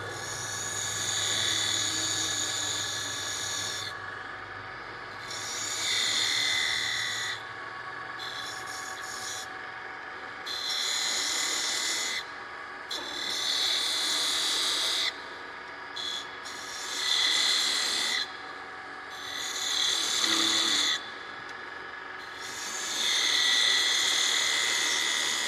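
A power tool trims fuzz off a wooden captive ring rattle, giving a steady rasping whir in repeated passes of a few seconds each, with a constant motor hum beneath.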